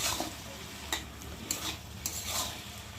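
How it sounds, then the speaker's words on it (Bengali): Bottle gourd and fried prawns being stirred in a pan, soft sizzling under a few scraping strokes of a spatula at a slow, even pace, quiet and close. "চিংড়ি মাছটাই দিয়ে একটু ভালো করে নাড়াচাড়া করবো"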